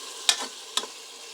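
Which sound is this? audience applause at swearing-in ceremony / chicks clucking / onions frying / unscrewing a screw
onions frying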